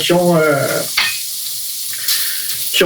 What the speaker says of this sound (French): je vais faire cuire cette viande-là avec mes petites échalotes grises